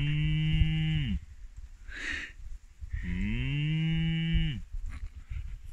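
Cows in the mountains give two long, loud, close moos separated by a brief pause, with a faint rustle between them.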